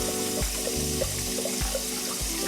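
Rice being rinsed by hand under a running kitchen tap, a steady stream of water splashing into a bowl or sink with rhythmic sloshing pulses as hands swirl the grains, close and continuous with no talking.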